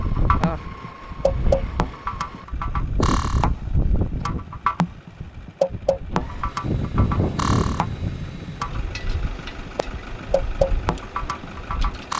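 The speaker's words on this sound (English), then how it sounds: "wrapping the winch line around the sand dune to get a different directional pull on the line" A vehicle winch clicks and whirs as it hauls its line wrapped around a sand dune for a redirected pull, with a steady ratcheting mechanical rattle, a few sharp clanks and bursts of noise over a low engine rumble.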